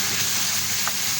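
Spinach tipped into hot oil over a fried masala tempering for a goat-head curry, giving a steady, close hiss of frying with a brief brighter crackle near the end; no voices.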